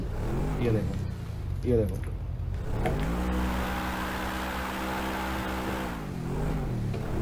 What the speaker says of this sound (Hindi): चलो जी, गाड़ी हो गई है स्टार्ट, और गाइज इसकी एक बार पहले आवाज सुन लो, बहुत जेन्युइन है।